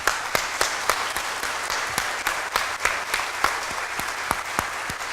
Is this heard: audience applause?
yes